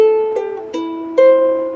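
Fingerstyle ukulele picks single notes from a song, four plucks spaced out and each left ringing. The instrument sounds close and clear, alone with no talking.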